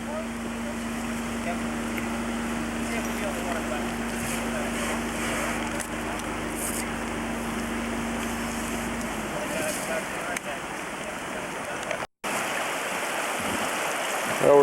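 Rushing water of Indian Creek flows steadily and loudly at the start of a raft trip, a continuous broadband roar with a low motor-like hum fading out partway through.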